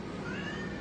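A cat meows in a rescue cat room, a drawn-out, rising call held for just under a second against steady room noise.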